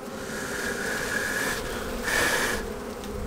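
Honey bees buzz at an opened hive during a cool winter inspection, a dense steady drone close by with a brief rise in intensity midway.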